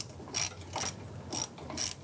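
A ratchet snugs down self-aligning screws holding a front door lock actuator in a 1999-2004 Jeep Grand Cherokee, giving four short, close bursts of crisp clicking spaced about half a second apart.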